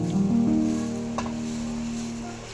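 Puffed rice (churumuri) poured into a hot pan of fried onions with the stove off, giving a soft sizzling rustle that rises briefly at the start and then settles into a low, steady hiss.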